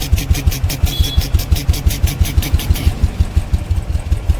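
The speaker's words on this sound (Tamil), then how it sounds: "இன்ஜின் ஆயில் மாற்றிட்டு ஒரு 2 மினிட்ஸ் வண்டி ஐடியலில் ஓட்டும்" A Royal Enfield motorcycle engine idles after an engine oil change, a loud, close, steady thumping beat at an even rhythm, with no voices.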